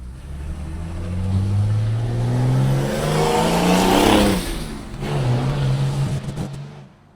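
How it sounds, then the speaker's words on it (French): A delivery truck engine revs hard with a slipping clutch, the pitch climbing and sagging in long rising sweeps, loud and close, dropping briefly and surging again before cutting off. "Voilà, l'embrayage patine."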